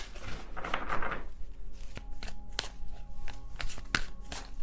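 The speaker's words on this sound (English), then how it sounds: "I can't shuffle this card that way." Tarot cards being shuffled close by, a papery riffle followed by a series of sharp taps and flicks as the deck is handled.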